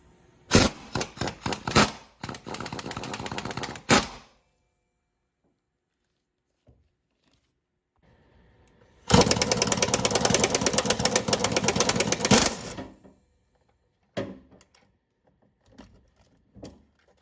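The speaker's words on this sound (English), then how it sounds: "I'm just gonna take my impact and I'm gonna take this bolt off." Impact gun removing a motor mount bolt on a GMC Envoy: two loud rattling bursts, the first broken into short pulses and the second a sustained hammering run, with quiet gaps and small clicks between.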